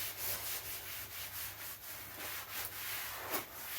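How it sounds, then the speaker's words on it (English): Steady, close scrubbing strokes on a kitchen surface during a deep clean, a continuous rhythmic rubbing hiss with brief swells, no talking. "And then just scrub it away."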